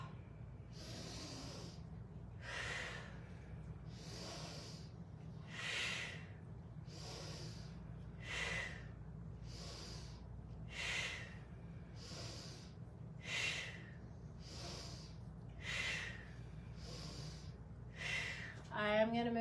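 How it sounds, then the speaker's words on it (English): Steady rhythmic breathing during a chair yoga session, about a dozen strong breaths through the mouth at an even pace, close and clear over a faint low hum. "you're gonna exhale through the mouth"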